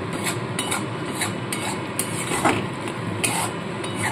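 A spice paste for a vegetarian pointed gourd (potol) curry is stirred and fried over low heat, with repeated spatula scrapes and taps against the pan over a soft sizzle, close and fairly quiet.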